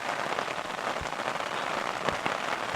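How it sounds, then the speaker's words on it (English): Steady rain patters on an umbrella outdoors, a dense, even hiss with scattered sharper drop hits, no voices. "doing it all in the rain under an umbrella"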